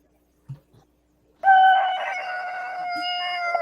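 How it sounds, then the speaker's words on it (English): After a brief soft thump, a rooster crows loudly and close, one long drawn-out cock-a-doodle-doo that holds for about two seconds before trailing off. "going to wake us up with a rooster"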